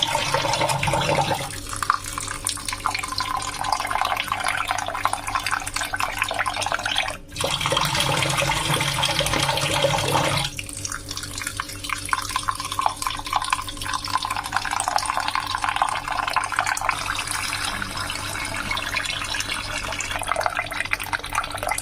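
Rice being rinsed by hand in water in a home kitchen before going into a pressure cooker for jeera rice: steady close sloshing and trickling water with a brief change midway, no talking.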